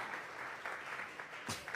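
Brief, faint clapping from a church congregation during a Sunday service, a soft patter of hands lasting under two seconds with a slightly sharper burst near the end.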